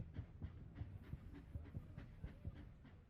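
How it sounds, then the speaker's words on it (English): Train running along rails, with a steady low rumble broken by regular rhythmic clicks and thumps of wheels over joints, fairly faint and continuous. "if it's supposed to be just train noises, fair enough. It's just train noises"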